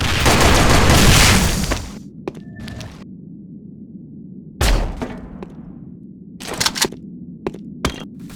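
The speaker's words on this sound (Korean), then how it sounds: "수류탄 투척" In the video game Sudden Attack, a thrown grenade sets off a loud, roaring blast that fades out over about two seconds, followed by scattered sharp gunshots and thuds.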